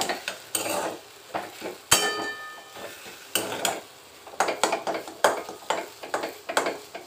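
A spoon stirring a turmeric-and-salt dish in a home kitchen pan, scraping and tapping in irregular strokes with a faint sizzle underneath, close by, no talking.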